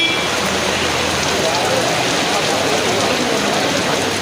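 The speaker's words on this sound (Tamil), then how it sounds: "இடி மின்னலுடன் கனமழை பெய்தது" Heavy summer rain pours down in Coimbatore, making a dense, constant hiss of falling water that stays loud and even from start to finish.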